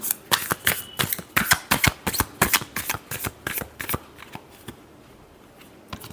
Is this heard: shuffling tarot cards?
yes